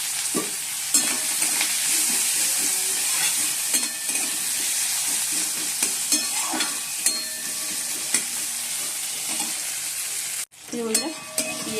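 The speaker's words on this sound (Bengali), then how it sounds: "পেঁয়াজটা একটু ভালো একটু ভেজে তারপর টমেটোগুলো দিয়ে দিয়েছি" Onions frying in hot oil before tomatoes go in, a loud continuous sizzle with frequent sharp clicks and scrapes of stirring throughout, a brief break near the end.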